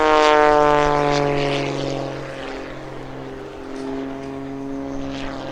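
An aerobatic propeller airplane flown by an air show aerobatic champion makes a low-altitude, low-speed pass at a beach air show, its engine drone loud and steady with strong harmonics, easing slightly as it passes.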